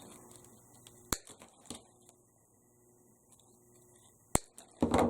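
Artificial flower stems for a Halloween arrangement snipped into pieces, a few sharp isolated cuts spaced apart in a quiet room, ending in a rustling burst.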